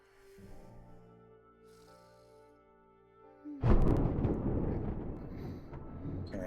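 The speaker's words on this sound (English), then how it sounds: "Okay, so there was a thunderclap." A thunderclap in a dark story game breaks suddenly over a soft musical drone, a loud, near crack that rolls into a sustained rumble.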